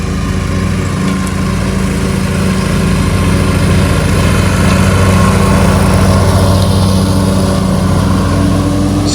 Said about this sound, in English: That mower can mulch up some leaves,